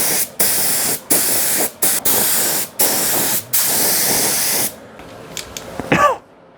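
A spray gun applies Cerakote coating at home inside a makeshift spray booth, giving loud, close bursts of hissing spray in about seven repeated passes with short gaps. Quieter handling noises follow, and nobody speaks.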